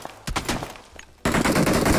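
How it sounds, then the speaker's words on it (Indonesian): Gunshots from a video game shooter: a few scattered cracks, some sounding far off, then a sudden dense burst of continuous loud firing filling the second half. "Ada yang nembak dari jauh lagi."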